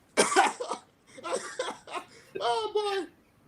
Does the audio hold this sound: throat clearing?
yes